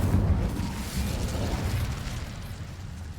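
An Incendio fire spell cast in the video game Hogwarts Legacy gives a steady, loud whooshing roar with a low rumbling body, sustained for about three seconds and gradually fading.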